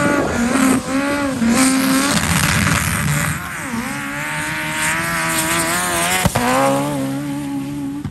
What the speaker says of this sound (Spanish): este 4G63 turbo, obviamente, es un turbo calle